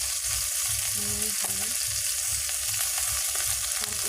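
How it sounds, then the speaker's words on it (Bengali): Pointed gourd (potol) frying in oil in a pan, a steady close sizzle with occasional stirring scrapes. "পটল ভাজা"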